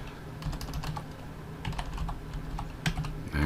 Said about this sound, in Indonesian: terus kita ketik total